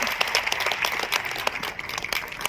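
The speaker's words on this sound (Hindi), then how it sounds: "जोरदार तालियां आप सबकी तरफ से" An audience at a state teacher's award ceremony applauds as the Governor honours a teacher, giving a dense, brisk patter of many hands that stays fairly loud and continuous.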